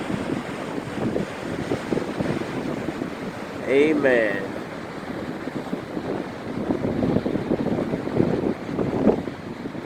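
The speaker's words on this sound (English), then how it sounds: "the ocean waves, amen. And they are high waves today." High ocean waves surge at Daytona Beach under heavy wind buffeting the microphone, a continuous loud wash with swelling peaks, while a voice speaks briefly over it.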